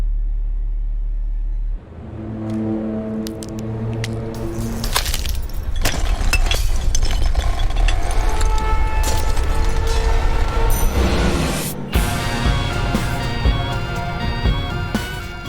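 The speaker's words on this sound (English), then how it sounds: "I use a lot of risers and effects until we reach the climax." Horror film trailer risers and effects build toward the climax: a deep rumble swells into dense, rising tonal layers cut by sharp cracks and impacts, loud and continuous, with a hard hit near the end before it surges again.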